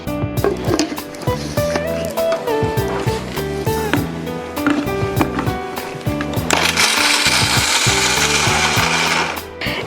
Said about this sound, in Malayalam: ഡേറ്റ്സ് ഒന്ന് നമ്മൾ ഈ മിക്സിയുടെ ബൗളിലേക്ക് ഇട്ടിട്ട്